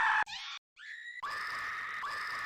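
A shrill scream sample in a phonk beat, chopped into bright bursts with abrupt cuts and a short silent gap before a sustained, loud scream carries to the end.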